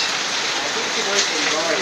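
Steady rain falls outdoors, a dense, even hiss of drops pattering on surfaces throughout, fairly loud and close with no pauses.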